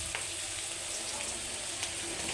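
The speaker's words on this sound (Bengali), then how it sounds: "আর চাল কুমড়া আলুটা আমি ভালো করে কষাই নেব" Ash gourd and potato sauté in spice paste, giving a soft, continuous sizzle with faint stirring scrapes.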